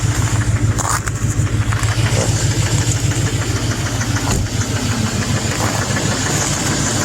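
A 2006 Duramax diesel truck engine idles after a cold start at 2 degrees with 230,000 miles, a loud, steady, low rumble with rapid knocking pulses running throughout, no talk over it.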